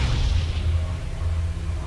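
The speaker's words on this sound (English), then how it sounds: "Shooting a fucking Jack cannon." Cannon fire in the video game Torchlight 2, a heavy low rumbling boom sustained through the whole moment, loud and close, with no voices over it.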